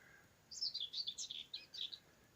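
A whitethroat sings a short, scratchy, chattering phrase of quick warbled notes from a hedge, clear and fairly close against a quiet background.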